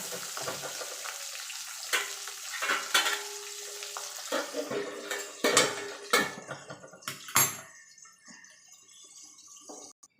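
Pabda fish frying in oil for a mustard pabda dish, a steady low sizzle broken by sharp clanks and scrapes of a spatula against the pan, with several louder metallic knocks through the middle.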